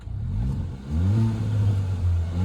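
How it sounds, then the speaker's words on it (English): A 2021 Kia Forte GT with a six-speed manual, in sport mode, revs up in a short burst, its engine note rising and holding steady close by with no talk over it. "So just rev it up just a little bit."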